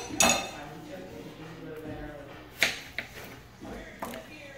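Knife trimming pork on a cutting board, a few sharp clicks and scrapes of the blade striking the board, close up, with quiet low rustling between the cuts.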